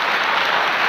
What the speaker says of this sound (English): No, don't applaud that.